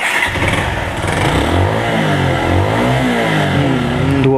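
Motorcycle with a suspected blocked piston and heavy exhaust smoke, its engine revving loud and close in rising and falling sweeps, with no talk over it.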